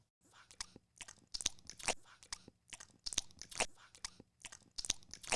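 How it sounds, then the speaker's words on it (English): Crunchy munching of a meal, rhythmic bursts of bites and chews repeating steadily at close range with no talk. "The intrepid team munches on a nutritional meal."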